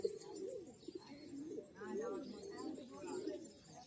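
Giribaz pigeons coo at a Murshidabad pigeon sale, a low warbling burble rolling on almost continuously for several seconds, close by, with people talking over it.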